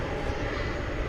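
FedEx McDonnell Douglas MD-11 jet approaching DFW Airport at night, heard as a brief, steady broadband engine roar at moderate distance.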